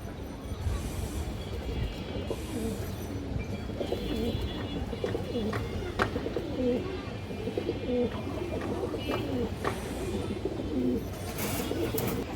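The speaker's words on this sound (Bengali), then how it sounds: "ফ্রেশ এবং খুবই চঞ্চল একটা কবুতর" Pigeons coo repeatedly in a bird market, soft throaty calls recurring throughout over a busy background with other birds chirping, while someone talks over them.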